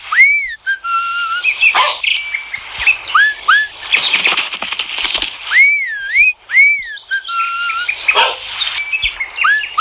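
Bright synthetic whistles and chirpy bird-like tones from a phone game repeat in quick, looping phrases, layered with electronic effects, loud and busy with no talking.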